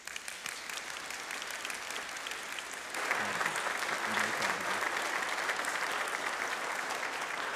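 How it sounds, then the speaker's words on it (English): A church congregation claps their hands during a morning worship service, the applause soft and distant at first, then swelling louder and fuller partway through and holding steady to the end. "I would like us to praise God through the clapping of our hands for these new lives."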